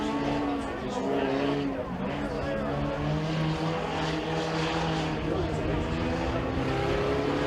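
Youth-division race cars at Freedom Motorsports Park pulling away under the green flag, a steady blended engine roar with droning tones, moderately distant and continuous.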